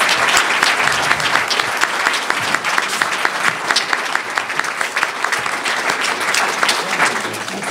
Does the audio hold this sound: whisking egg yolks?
no